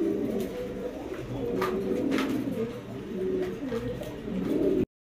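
Pigeons coo steadily, several overlapping rolling calls close by. A pair of white Bombay pigeons is kept at a pigeon farm, and the cooing continues for about five seconds before cutting off abruptly.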